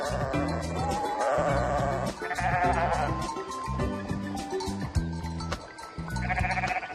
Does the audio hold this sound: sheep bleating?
yes